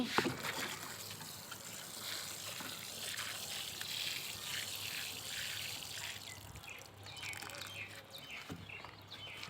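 Water trickles and splashes as a potted mulberry plant in a rooftop garden is watered, a soft continuous pour with faint birds chirping in the background.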